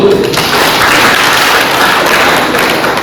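Applause from an audience at a community event in Desa Baluk, Bali, a dense, loud wash of many hands clapping continuously from start to end.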